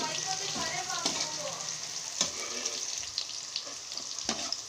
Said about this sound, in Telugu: కాకరకాయలు నూనెలో ఫ్రై చేయాలి.